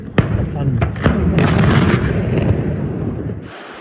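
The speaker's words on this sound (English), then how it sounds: "In July, fires around Volos detonated ammunition stored at a military airbase." Wildfire near Volos sets off ammunition stored at a military airbase. Several sharp blasts crack in quick succession over a rumbling, crackling roar that fades out abruptly at the end.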